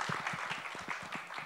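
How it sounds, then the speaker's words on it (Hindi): An audience at the Baadshaho trailer launch claps for Vidyut Jammwal, brief, fairly close applause with individual hand claps audible in quick succession. "विद्युत जामवाल के लिए एक बार जोरदार ताली होनी चाहिए।"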